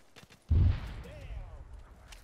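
A single heavy artillery round fired in the ARMA Gulf War video game, one deep boom that decays slowly, with a voice speaking faintly around it.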